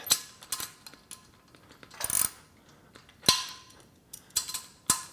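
A ratchet with a 1/2 inch socket turns a 5/16 bolt on Body Solid EXM3000 gym equipment, with a few sharp metallic clicks and clinks in short separated bursts, close and without talk.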